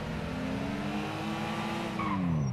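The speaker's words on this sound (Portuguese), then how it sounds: "É bonzinho, o motor dele parece que tá bom." A car engine hums steadily while driving in the video game GTA V, its pitch holding level and then dipping toward the end, with a faint tire squeal near the finish; no one talks.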